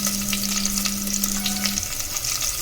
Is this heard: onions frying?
yes